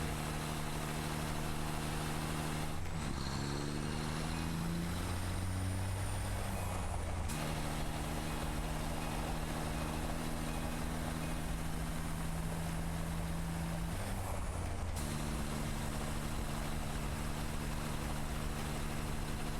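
A truck in the factory-building video game Satisfactory drives along with a steady engine drone and shifting tonal hums that change pitch a few times, loud and continuous with no talking.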